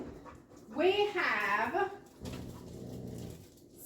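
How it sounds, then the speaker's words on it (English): Close by at a person's feet, a dog makes a long rising-and-falling whimpering moan, then softer fussy breathing, as a person speaks briefly. "I have a muttering dog at my feet"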